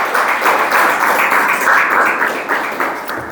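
A church congregation claps together in a dense, continuous round of applause during a Spanish-language worship service, loud and sustained for several seconds with no talking over it.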